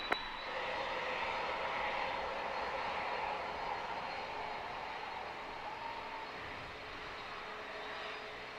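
A FedEx heavy jet takes off from runway 27 at San Diego airport, a steady, somewhat distant engine roar that holds evenly throughout.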